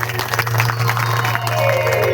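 Applause from the audience at a Bhagavat katha religious discourse gathering: a steady, dense wash of clapping across the whole moment, with a constant low drone or hum running underneath.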